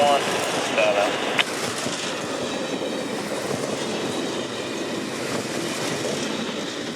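A CSX freight train rolls past near Folkston, a steady loud rumble of rail cars with rhythmic wheel clatter and faint squeal throughout, a brief tone in the opening second.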